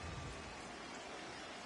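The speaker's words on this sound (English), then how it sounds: "Yeah, the rain starting to intensify here." Steady rain pours down in an MLB The Show baseball game, a dense, even hiss that holds constant throughout without pauses.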